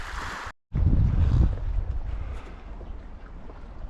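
Wind gusts around a sailboat moored off the Croatian coast, a steady close rushing and buffeting against the microphone with a brief dropout near the start and no voices.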